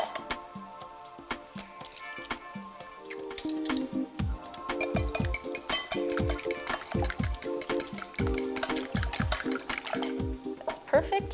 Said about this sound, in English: I'm gonna beat 3 eggs.